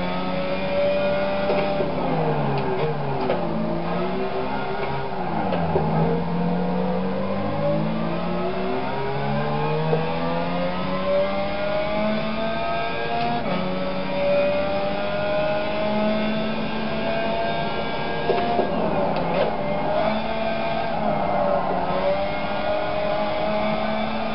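In a racing video game played with a racing wheel and shifter, a car engine revs continuously through laps, its pitch climbing and dropping with each shift and corner, loud and steady with no talking.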